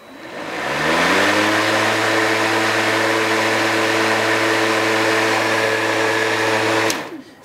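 An Einhell power garden tool switches on, spins up within a second and runs at a loud, steady motor whine with a constant pitch for about six seconds before cutting off.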